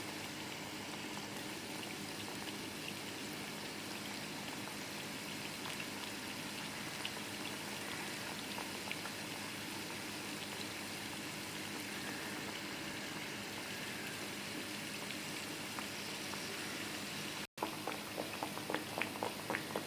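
Badusha dough frying in hot oil, a quiet continuous bubbling hiss that runs steady throughout, with a brief sharp break and a few sputters near the end.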